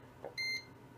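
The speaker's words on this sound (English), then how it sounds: "Some people don't like the beeping sound." An NZXT Sentry 2 fan controller gives a single short electronic beep, a clean, bright tone that ends quickly in an otherwise quiet room.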